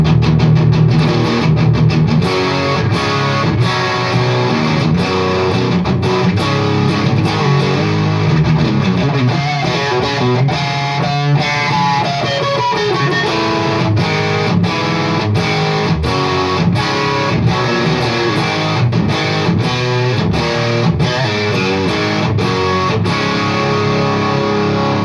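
Electric guitar played through a Soldano Astro-20 amp with the gain fully up, loud and heavily distorted, chugging riffs and sustained chords continuing steadily without pause.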